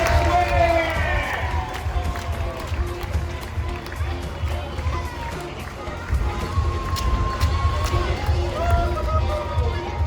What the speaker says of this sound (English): the crowd was cheering for wides bowled by the bowler consecutively